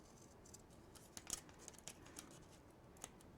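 Scissors snip through paper while cutting pieces for a Halloween paper-craft folio, a series of soft, close, irregular crisp snips and faint rustles in a quiet room.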